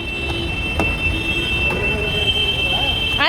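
Mechanical rumble of a small children's ride train in a shopping mall, with a steady high tone and faint chatter and clicks around it, nearby and continuous.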